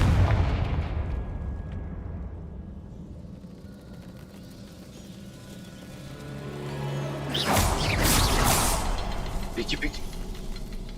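A Confringo fire spell blasts in a wizarding video game, a sudden loud burst with a bright crackling roar late in the moment, after a low rumbling stretch, with a voice heard briefly.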